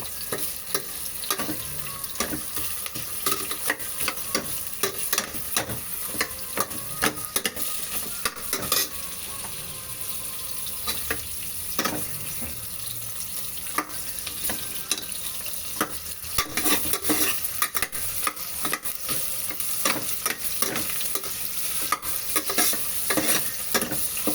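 Mutton and onions fry in a pan, a continuous close sizzle broken by repeated scraping strokes of a spoon stirring the pieces around for over twenty seconds.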